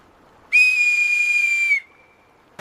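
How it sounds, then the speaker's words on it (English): A crude wooden whistle, hand-carved and blown across an empty river in the wild, gives one clear, loud, steady tone that holds about a second before it cuts off sharply, with quiet around it. "I carve a crude wooden whistle and blow it across the empty river."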